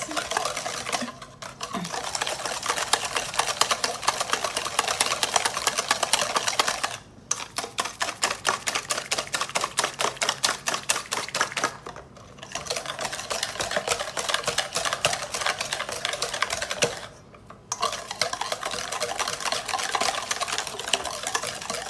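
Banana bread batter stirred by hand in a bowl, a steady rapid scraping and clicking rhythm that runs close and loud in long stretches, with brief pauses between bouts.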